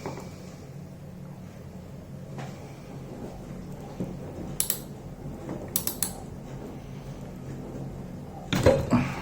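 On a Yamaha XJ650 carburettor, a ratchet with a deep socket loosens a part. Short bursts of quick clicking come in a few separate spurts over a quiet workshop background, close by and without talk.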